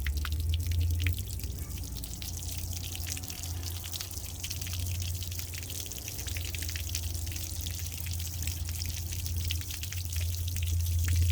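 Water from a garden hose pushing through an old broken boat motor trickles and drips steadily. A low hum runs underneath. The sound stays close and continuous, with no voices.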